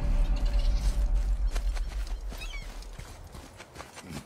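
In a video game, an axle is lifted with a mechanical sound: clunking, ratcheting gear-like clatter, loudest at first and fading gradually.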